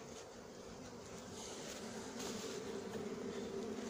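Bees buzzing at a natural beehive: a steady, dense swarm hum close by, continuous throughout and slightly louder toward the end.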